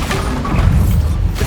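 A deep, rumbling Bombarda spell explosion in Hogwarts Legacy on PS5, a heavy low boom sustained for over a second with a dense crashing texture.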